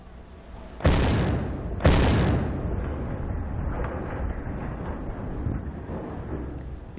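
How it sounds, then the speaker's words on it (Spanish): Two sharp, loud blasts about a second apart from controlled explosions breaking up collapsed Baltimore bridge wreckage resting on a ship, each followed by a long rumbling tail of debris and echo. "Explosiones controladas para romper lo que queda de ese puente y retirarlo después."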